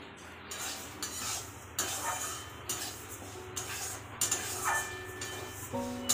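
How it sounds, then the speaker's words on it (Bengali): Moong dal being lightly dry-fried in a wok, with repeated scraping and stirring strokes over a steady low sizzle, close and fairly loud, no voices. "মুগ ডালটা একটু হালকা করে ভেজে নেব"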